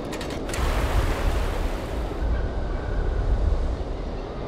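Water gushes steadily onto a character in the adventure game Syberia, a loud, continuous rushing splash that holds the whole stretch without any voices.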